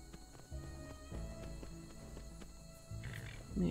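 Horse hooves clop in a steady rhythm while riding through the Enderal video game world, sounding close and moderately loud, with a heavier, faster stretch of hoofbeats toward the end.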